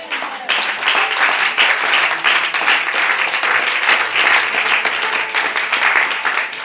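A church congregation applauds and cheers, producing steady, dense clapping that fills the room for several seconds without a break.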